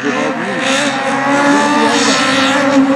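A red Honda rally car at the Rallye de Meuse roars past at speed, its engine loud and sustained with shifting revs over about three seconds; crowd chatter sits faintly underneath.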